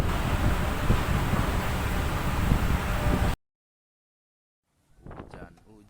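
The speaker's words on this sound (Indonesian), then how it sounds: "Aduh guys, hujan lagi aja." Stormy wind and heavy rain at Merak port, a dense loud roar of gusts and downpour that cuts off abruptly, then a short stretch of voices.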